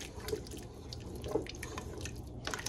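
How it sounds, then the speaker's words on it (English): Water is added to a simmering pot of New Orleans red beans and rice, heard as soft irregular drips and splashes close by over a steady low background hum. "let's add a little bit more water"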